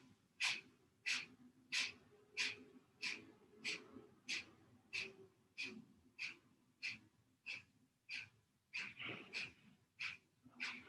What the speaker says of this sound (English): If you're used to doing Kapalbhati breathing, then you can do at your own pace.